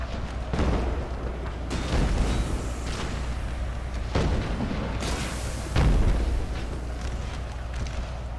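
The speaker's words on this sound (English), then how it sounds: "Where's that goddamn cannon coming from? Or is that our allies' cannon firing?" Cannon fire in an American Civil War battle video game: several heavy booms at irregular intervals, some close and loud, others more distant, over a continuous low rumble of battle.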